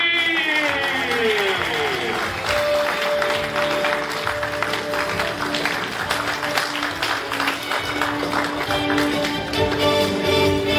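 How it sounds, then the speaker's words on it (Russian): Applause filling a hall at a phygital sports competition award ceremony, steady crowd clapping running under loud music with sweeping tones throughout. "Аплодисменты не должны смолкать в этом зале"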